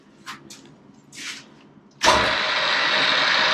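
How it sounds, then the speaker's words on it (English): A Smithy MI-409MZ milling machine starts up after a few soft hissy rustles, its motor then running on as a steady, loud, broadband whir for the remaining seconds. "Anyway, the mill is running."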